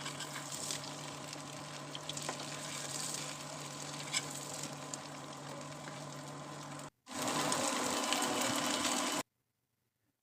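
Pumpkin flower and egg fritters fry in mustard oil, giving a steady close sizzle that continues for several seconds, breaks off briefly, resumes, then cuts to silence near the end.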